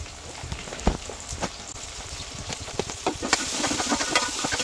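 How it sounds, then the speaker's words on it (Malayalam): Chopped onions go into hot oil already frying garlic, ginger and shallots, giving a steady, fairly faint crackling sizzle with scattered pops and stirring clicks throughout. "ഇനി നമുക്ക് അതിലേക്ക് നമ്മുടെ സവാള അരിഞ്ഞതിനെ ഇട്ട് കൊടുക്കാം"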